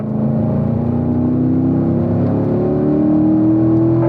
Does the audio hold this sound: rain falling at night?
no